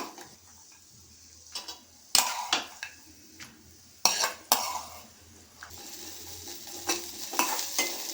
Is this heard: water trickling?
no